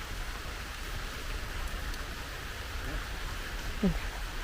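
Steady rain falls in an even, hissing wash that holds at a moderate level throughout, with a brief faint knock near the end.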